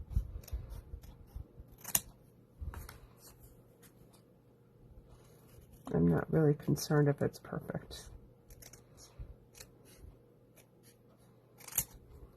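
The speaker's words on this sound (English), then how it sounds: "So just take our scissors now." Scissors snip through card paper in a short run of quick cuts during a birthday card craft, with someone speaking before and after the cutting.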